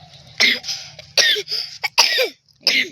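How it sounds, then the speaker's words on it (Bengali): A child coughs in several short, rough bursts, fairly close, with brief pauses between them and faint background hum. "কি কাশছে দেখো।"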